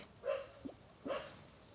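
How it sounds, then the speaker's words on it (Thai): A dog barks twice, about a second apart: two short, fairly loud, harsh bursts with a quiet gap between them and no voices. "หมาเห่าทำไม"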